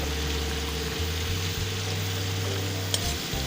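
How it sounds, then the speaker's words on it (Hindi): Onions sizzle steadily in a pan while being stirred, with scraping stir sounds over continuous close frying noise and no talking, during preparation of an okra and meat curry. "प्याज फ्राई हो गया है।"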